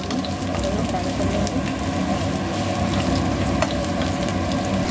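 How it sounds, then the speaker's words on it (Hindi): Pointed gourd (parwal) pieces frying in hot oil left from frying potatoes, a steady dense sizzle with a constant bubbling hiss running evenly throughout, fairly loud and close, no voices. "अब इसी तेल में डालेंगे परवल को।"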